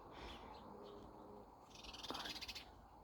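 Young baby birds calling softly at close range, faint chirps early on followed by a brief rapid burst of high cheeping near the end, with no talking.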